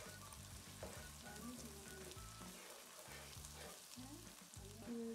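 Ginger-garlic paste and green chili paste fry in a pan for palak gosht, a busy, continuous sizzle and crackle with stirring, fairly close and steady throughout, with no voices.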